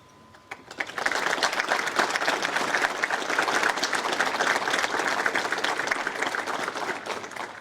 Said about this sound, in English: please stand at this time for a round of applause